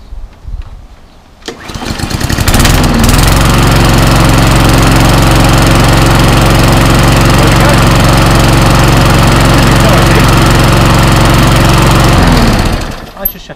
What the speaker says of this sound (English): This is the first start, by the way, of this particular mower from out the box.